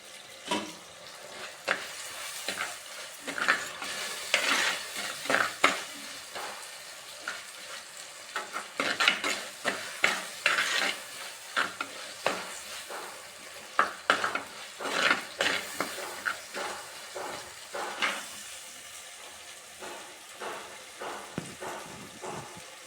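Ingredients for mutton biryani sauté in a pan, with a steady sizzle under repeated scraping and stirring strokes from a utensil, some louder clinks against the pan.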